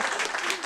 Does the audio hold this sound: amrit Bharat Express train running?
no